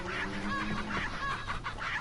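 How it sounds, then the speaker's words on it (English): A chicken in the video game Resident Evil 4 clucks in a quick string of sharp, repeated calls over a low background hum, with no one talking. "the chicken is starting to spaz out"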